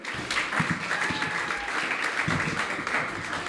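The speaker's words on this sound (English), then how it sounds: "if you could please welcome him to the stage with a round of applause" Audience applause welcoming a comedian to the stage, steady clapping from a modest club-sized crowd with a few louder claps and faint shouts mixed in.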